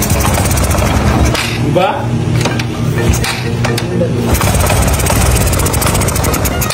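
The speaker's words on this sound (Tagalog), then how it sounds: "Binasa lang ng gasolina yung basahan guys. Tapos umandar yung motor." A motorcycle engine, started with a gasoline-soaked rag even though its carburetor has no piston, runs loudly and continuously up close while people talk over it.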